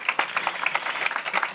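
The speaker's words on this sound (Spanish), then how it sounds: "un aplauso para él también, por favor" Audience applause at the Ibiza NXT 2021 blockchain conference, a short burst of many hands clapping steadily in a hall, moderately loud with no voices.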